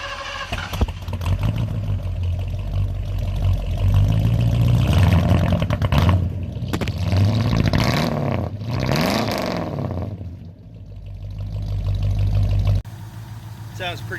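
A 1973 Ford Torino coupe with a 351 Cleveland V8 cranks, fires and settles into a rumbling idle, then revs up in several rising and falling sweeps before dropping back to idle. The engine is close and loud.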